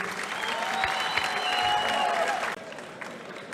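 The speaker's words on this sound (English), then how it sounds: "Let's have a round of applause for both of these athletes." A crowd applauds both fighters after an East vs West arm-wrestling match, sustained clapping that cuts off sharply near the end, leaving quieter room noise with faint voices.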